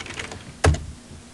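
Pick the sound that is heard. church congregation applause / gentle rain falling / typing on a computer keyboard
typing on a computer keyboard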